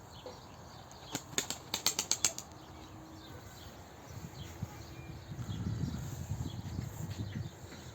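A quick burst of wing flaps from a pigeon, several rapid beats close by, then quiet outdoor ambience with a low rumble building.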